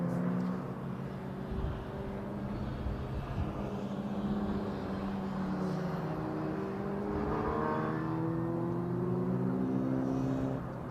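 MG Midget and Austin-Healey Sprite race cars accelerate on a circuit, several engines droning and rising in pitch at mid distance, layered over a steady broad roar from the track.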